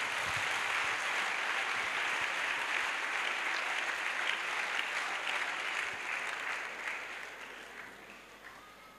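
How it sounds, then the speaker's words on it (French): A congregation at an evangelism crusade claps for the Lord, a dense, steady wall of applause that stays loud and then fades slightly near the end. "Clap to the Lord acclamons Jesus."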